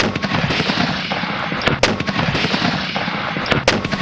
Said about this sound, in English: Our mortar boats hurl 200-pound shells in a bombardment that will last for 7 weeks.